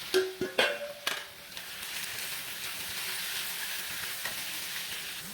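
Shrimp drop into a pan with tomato and start frying, opening with a few sharp clatters and splashes, then settling into a steady close sizzle and hiss with no talk.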